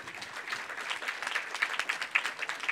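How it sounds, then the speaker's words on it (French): Conference audience applauding steadily after catering staff are thanked at a national pollinator insects meeting, a dense wash of many hands clapping at moderate distance with no speech over it. "Je pense qu'on peut les applaudir."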